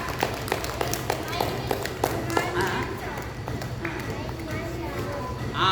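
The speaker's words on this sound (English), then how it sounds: "You clap very fast." A group claps quickly in a steady, fast rhythm during a Bhagavad Gita chanting session, the claps mixed under ongoing speaking voices.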